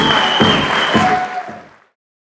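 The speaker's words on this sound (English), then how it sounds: "Please give them a round of applause." Audience applause follows a kung fu performance at a business awards gala, a short burst of clapping that fades out quickly into silence.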